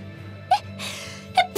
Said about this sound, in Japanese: おや、くしゃみが伝染しとるのか